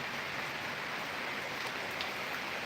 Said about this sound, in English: trying to wait out this rain